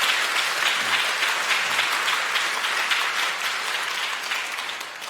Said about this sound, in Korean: 여러분들 박수 보내주시기 바랍니다.